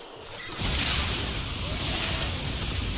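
A loud, broad explosion blast in the Warframe video game bursts in after a quieter moment and sustains as a roaring wash of noise for several seconds.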